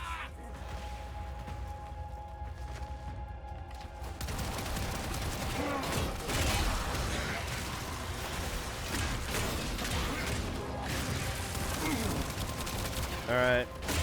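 Gunfire in the video game Warframe: after a quieter start, a loud stretch of rapid shots and clattering weapon noise with a voice occasionally under it.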